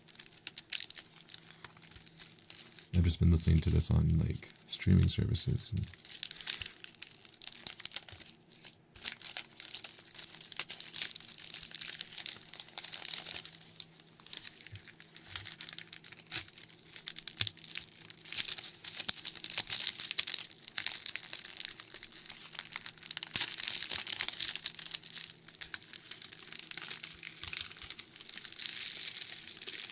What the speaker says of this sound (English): Do you also like to crunch up the plastic wrapping after you?